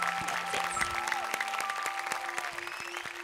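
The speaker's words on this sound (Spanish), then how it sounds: "Un aplauso." A television studio audience at a style competition show applauds a departing contestant; fairly quiet clapping runs steadily throughout, mixed with sustained musical tones and a few brief whoops.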